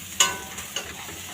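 Kharkol leaves being stirred and fried in a pan give a short scrape and sizzle, with one sharp clink followed by two softer stirring strokes, close and brief.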